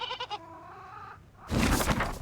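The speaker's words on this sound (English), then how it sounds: "Noisy goat." A goat bleats in a video game, a few wavering, close bleats followed by a sudden burst of broad noise.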